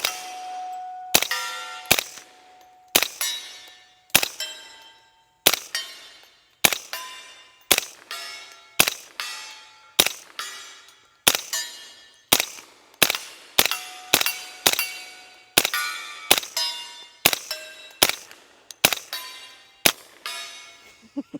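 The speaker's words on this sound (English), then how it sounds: "out of the suppressed 10 millimeter Banshee, this thing runs really well and it's pretty doggone quiet" Suppressed CMMG Banshee 10mm fired in the woods at dusk, roughly twenty sharp, ringing shots in a steady, evenly spaced string, each a crisp crack with a short metallic tail, close and loud, with no talking.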